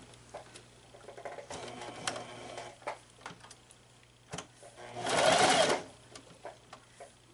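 A sewing machine stitches a teddy bear in short, soft bursts of rapid ticking, with one longer, louder run of stitching near the end, heard close up in a quiet room.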